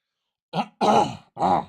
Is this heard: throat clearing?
yes